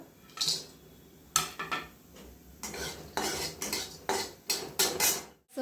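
Whole spices with garlic and ginger being stirred in a cooking pan, a series of metal spoon scrapes and clinks against the pan over a soft sizzle, close and irregular.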